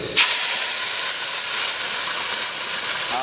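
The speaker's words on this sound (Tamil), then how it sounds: "வெள்ளைப்பூடு கொஞ்சம் வதங்கின பிறகு கிராமத்து ஸ்டைலில் நம்ம ஆட்டின அந்த மசாலாவை கொஞ்சம் சேர்த்துக்கலாங்க" Ground village-style masala paste hitting hot oil with sautéed garlic in a pan for Tamil fish curry, giving a sudden loud sizzle that settles into a steady, close, continuous hiss with no talking.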